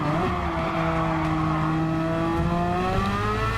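Race car engines in Gran Turismo 7, including a Porsche and a Ferrari Testarossa, drone at high revs with steady rising pitch, a loud continuous multi-car whine with no speech over it.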